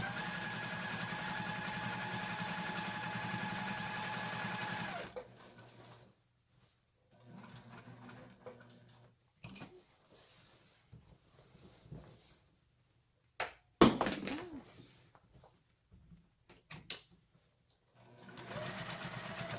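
A sewing machine quilts in the ditch on a shamrock quilt, with a steady whirring run at first, then short stop-and-start bursts of stitching and clicks separated by quiet gaps.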